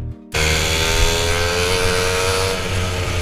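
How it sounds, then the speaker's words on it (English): Loud, steady engine drone with dense harmonic whine from several racing karts running close by at a British university karting championship race, continuous after a brief quieter opening. "over the sound of the engines"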